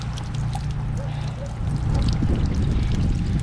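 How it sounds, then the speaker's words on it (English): Water draining from a camper's water heater during winterizing, a steady close rushing pour with a trickling edge that swells slightly partway through, running continuously. "we're just going to let that water heater drain"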